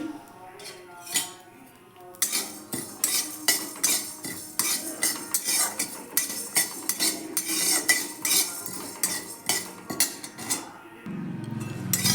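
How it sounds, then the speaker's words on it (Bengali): Cumin, coriander and whole spices dry-roasting in a hot kadai give a brisk, rhythmic metallic scraping and clinking as a spatula stirs them, close and loud, after a quieter start. "এখানে জিরে 1 চামচ, ধনে 1 চামচ আর কয়েকটা গরম মশলা শুকনো কড়াইয়ে আমি ভেজে নিচ্ছি"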